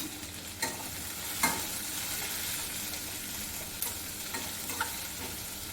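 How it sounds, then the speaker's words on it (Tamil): A large onion, sliced long and thin, sautés in a pan for a hotel-style masala dosa filling, giving a steady close sizzle broken by a few sharp clinks of stirring. "ஒரு பெரிய வெங்காயத்தை நீளமாக மெல்லிஸாக கட் பண்ணி சேர்த்துக்கோங்க வெங்காயம் நல்லா வதங்கணும் வதக்கிக்கலாம்"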